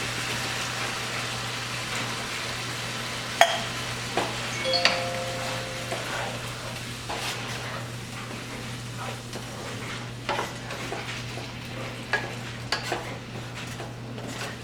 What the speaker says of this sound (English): I'm going to go ahead and add in my tomatoes and let it cook some more